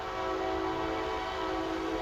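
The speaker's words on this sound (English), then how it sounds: "And then you got the train coming through again." A train rolls through a track in the racing game Demolition Derby 3, giving a sustained mechanical drone with horn-like tonal layers at an even, loud level.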